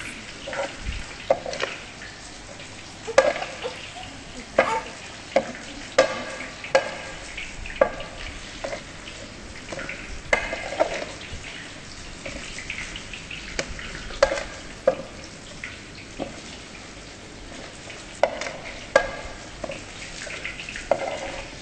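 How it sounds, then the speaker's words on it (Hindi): Fish frying in a pan of oil, a continuous close sizzle and bubbling with regular clinks and scrapes of a utensil turning the pieces, steady throughout with no speech. "ये देखिए अब फिश फ्राई हो चुकी है।"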